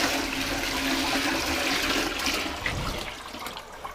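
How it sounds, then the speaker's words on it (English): A toilet flushed with a load of water forced down at pressure to clear a blockage, a loud, close, steady rushing gush that holds for several seconds and then starts to ease off, with no voices. "as a backup, I'm going to whoosh a load of water down there"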